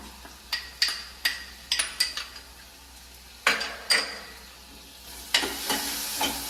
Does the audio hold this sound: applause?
no